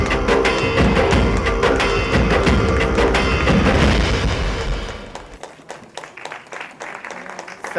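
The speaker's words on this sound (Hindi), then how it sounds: "जोरदार तालियां सनी सर के लिए।" Loud, dense audience applause with cheering greets actor Sunny Deol at the trailer launch event for the film Vanvaas, a continuous roar that thins out after about five seconds into scattered, fading claps.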